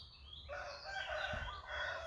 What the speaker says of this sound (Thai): ได้ยินเสียงนะคะเสียง ไก่ขันค่ะ